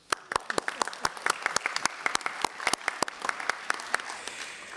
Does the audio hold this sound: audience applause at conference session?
yes